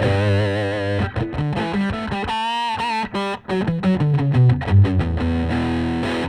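Electric guitar driven through a Rat distortion pedal into a vintage Sunn 100S tube amp, playing a loud, thick, sustained riff with crunchy held chords and shifting notes, alone.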